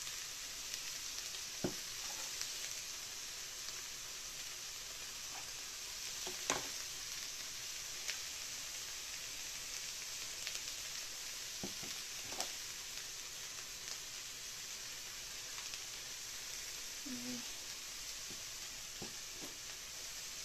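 Two generous spoonfuls of garlic-flavoured spread softening in a hot pan, giving a soft, steady sizzle throughout with a few faint scrapes and clicks of utensils, no voices.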